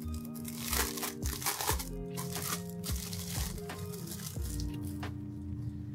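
A plastic paint palette being handled, with soft crinkling and crunching plastic sounds and light knocks, close and fairly quiet.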